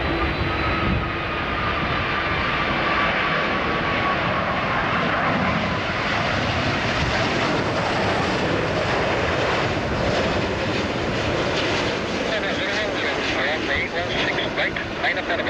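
An Air New Zealand airliner landing on runway 16R at Narita Airport in strong typhoon winds, a loud, sustained jet roar with whining engine tones, wind-buffeted and steady, with air traffic radio chatter and voices underneath.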